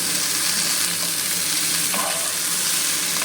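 Fried spice paste sizzling hard in a pan for a vegetable and katla fish dish, a dense, close crackling hiss that stays steady throughout, with no talking.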